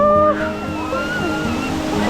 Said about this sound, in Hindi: आवाज़ उतनी क्लियर नहीं आ रही होगी क्योंकि पानी की आवाज़ बहुत ज़्यादा है